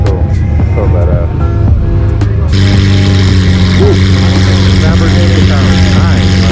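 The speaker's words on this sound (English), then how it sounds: "Lamborghini sounds nice." A Lamborghini engine running at a car meet, a steady low mechanical drone that grows louder and fuller partway through, with people talking nearby throughout.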